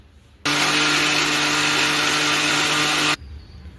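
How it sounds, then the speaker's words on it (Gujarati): A mixer grinder blends dragon fruit juice with sugar and ice slices, starting abruptly, holding a loud, steady motor roar for under three seconds, then cutting off to quiet. "હવે તેને આપણે મિક્સર જારમાં પીસી લેવાનું છે"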